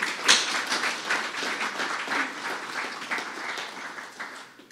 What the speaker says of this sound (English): A big round of applause for the families here tonight.